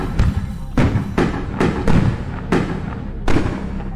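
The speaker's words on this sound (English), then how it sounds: "9 mortars on this one." Firework mortars bursting in the Firework Simulator video game, with six or seven loud booming thuds in an irregular sequence and crackling decay between them.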